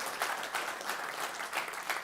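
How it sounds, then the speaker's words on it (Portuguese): A short burst of applause from a church congregation, dense and steady clapping from many hands. "Aê, vai aplaudir, aplauda forte."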